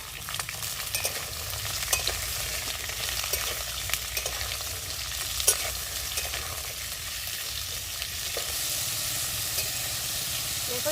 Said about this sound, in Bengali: ঝিঙেও একটু ভেজে নেব এবং তার সঙ্গে যে ছোলাটা ছিল ছোলাটাও একটু দিয়ে দিচ্ছি